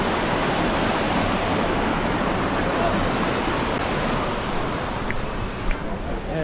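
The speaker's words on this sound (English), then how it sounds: "Here's the waterfall, guys." Steady rushing roar of a mountain waterfall near Marrakech, a dense continuous wash of falling water that stays loud and even throughout with no breaks.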